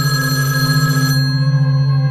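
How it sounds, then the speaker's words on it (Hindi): A mobile phone rings with a steady electronic tone holding one pitch, loud and close, ringing alone with no voices over it. "और फिर राहुल का मोबाइल बजा।"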